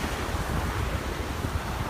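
Ocean surf and wind roar steadily along a beach the morning after a storm, a dense, loud, unbroken wash of waves and gusting air buffeting the microphone, with no voices.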